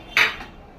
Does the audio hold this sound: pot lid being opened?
yes